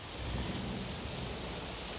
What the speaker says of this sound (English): dark clouds filled the sky and heavy rain began to fall, drenching the entire course and completely changing the race conditions